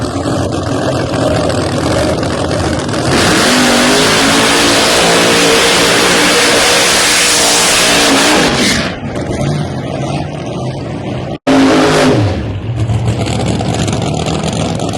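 A drag racing car in a Pro Nitrous, Pro Boost or Pro Street eliminations round screams through a short burnout, its engine revving hard and loud, then cutting off briefly before a second sharp burst of revving.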